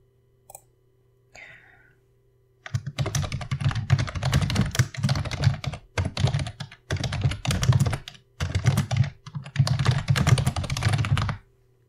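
Close, brisk typing on a computer keyboard comes in several bursts of rapid key clicks separated by short pauses, with a few isolated clicks at the start and no talking.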